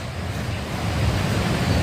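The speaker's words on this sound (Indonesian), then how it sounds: "Itu di sebelah sananya itu sungai" A river flows nearby in the Bogor Botanical Gardens, a steady broad rushing wash that swells slightly louder toward the end, with no talking over it.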